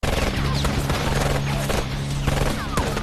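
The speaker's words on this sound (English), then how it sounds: "After that, Broker immediately took a shotgun, and there was a very exciting shootout." Gunfire erupts in a movie shootout where a man fires a shotgun, heard as sharp repeated bangs and cracks over a dense, loud, busy action-scene soundtrack.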